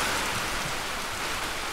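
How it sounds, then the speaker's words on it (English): Heavy, loud rain in a fantasy game, a steady dense hiss of drops hitting surfaces that fills the whole moment without pause, with no voices over it. "This rain is so loud."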